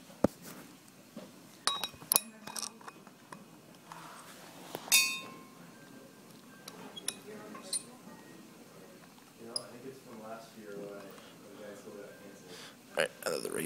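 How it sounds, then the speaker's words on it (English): Metal parts of an oxygen regulator clink and click as it is fitted onto an oxygen tank, with sharp scattered taps and a brief hiss between stretches of a person talking. "then you'll assemble the regulator to the tank"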